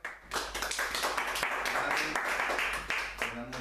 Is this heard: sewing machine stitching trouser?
no